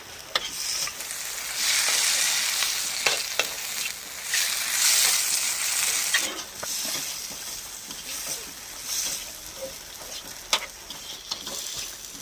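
A spoon scrapes and stirs an aloo tikki chaat mixture after chili powder and coriander powder go in, with bursts of sizzling hiss and sharp clicks against the vessel, no talking.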